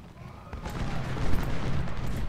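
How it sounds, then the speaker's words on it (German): Cannon fire in the Civil War strategy game Ultimate General: Civil War, heard as a dense, continuous rumble of overlapping booms and gunfire that keeps building throughout. "Gut, dass die Kanonen jetzt mitschießen."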